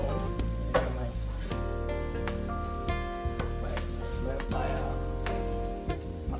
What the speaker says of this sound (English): my green onions, thyme, all simmering here. Simmering the pot.